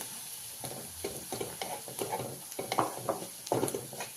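A cumin and coconut paste fries in hot oil while being stirred, with soft sizzling and rhythmic scraping strokes that repeat about every half second, close by, with no talk.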